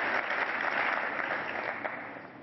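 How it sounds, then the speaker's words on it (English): Conference audience at a Cisco Collaboration Summit applauding, a dense wash of many hands clapping that starts full and slowly tapers off over a couple of seconds. "You can clap whenever you want."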